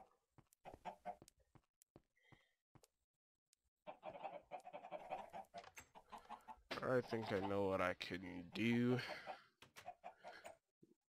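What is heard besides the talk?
chicken clucking in Minecraft modpack video game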